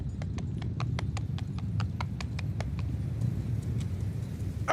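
Horses trot in the medieval battle game Mount & Blade, their hooves making steady, rapid clip-clops over a rumbling background of moving troops. The hooves sound clear and fairly close, with no speech.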